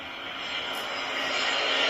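Airplane passing overhead, a broad steady jet roar that swells slightly over two seconds, moderately distant and heard alone without talk.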